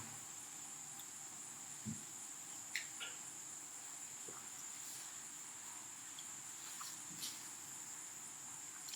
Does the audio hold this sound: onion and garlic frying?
no